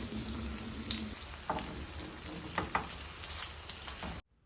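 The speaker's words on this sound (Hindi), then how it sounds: "उसके बाद मम्मा ने कबाब फ्राई कर लिए" Kebabs frying in a pan, a continuous close sizzle with occasional spits and scrapes, ending abruptly in silence.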